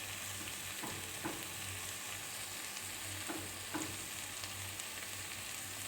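Prawns with taro stolons cook in a pan, giving a low, steady simmering sizzle with an occasional soft clink or stir, fairly quiet and continuous, with no talking.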